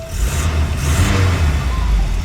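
Volvo 240, about thirty years old and sitting unused for a year in weeds, runs after firing up, its engine a loud, steady, slightly uneven mid-pitched rumble close by with faint revving.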